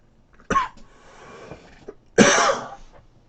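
Two sharp, close coughs from one person, a short one and then a longer, harsher burst after a pause, with quiet breathing between them and no speech.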